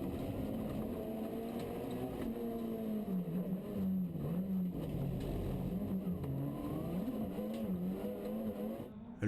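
Rallycross cars race at Châteauroux in 2012, their engines a steady loud drone that rises and dips as they rev and shift, continuous and fairly close.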